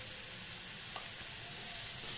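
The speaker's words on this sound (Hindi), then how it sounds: "सभी सब्जियों को हम फिर से आधे मिनट तक मसाला के साथ अच्छे से भून लेंगे।" Vegetables frying with black pepper, red chili powder and salt in a pan while making veg momos give a steady, even sizzle with soft stirring, with no talking.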